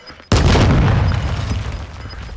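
A C4 charge detonating in Call of Duty Warzone, one sudden loud boom that starts sharply and then decays into a long rumbling tail.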